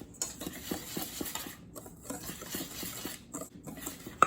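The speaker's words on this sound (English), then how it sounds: "And then just mix these dry ingredients together." A spoon or whisk stirs dry muffin ingredients and sugar in a bowl, making soft, rhythmic scraping and patting strokes that are quiet and close, with no talking.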